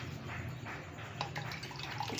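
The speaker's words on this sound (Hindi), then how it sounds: "3 गिलास पानी के इसमें जाएंगे" Water pours steadily into a cooking pot holding spinach for saag gosht, a soft continuous splashing rush that stays fairly faint and even for about two seconds with no talk.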